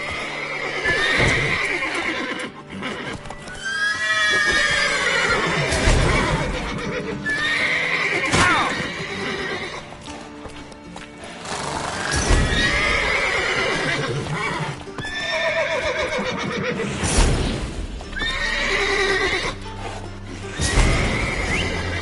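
Horses in The Witcher 3 neigh and whinny repeatedly, with hooves clip-clopping in between, loud and close, and the pattern repeats through the scene.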